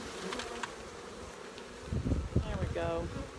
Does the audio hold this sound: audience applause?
no